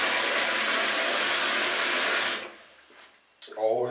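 Hot water runs steadily from a tap into a basin as a broad, loud rush for over two seconds, then stops abruptly; faint clatter follows and a voice begins speaking near the end.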